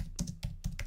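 A computer keyboard clatters under close, quick typing as a git command is entered, with about four distinct key clicks in a short burst and no talking.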